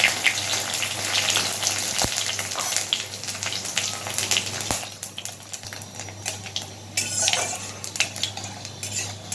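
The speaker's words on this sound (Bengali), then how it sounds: "এবার ফোড়নটাতে দিয়ে দিচ্ছি শুকনো লঙ্কা, তেজপাতা আর গোটা জিরে।" Dried red chilies, bay leaves and whole cumin hit hot tempering oil in a pan while cooking vegetarian khichuri, giving a steady close sizzle and crackle with occasional clinks of a metal utensil against the pot, no talking.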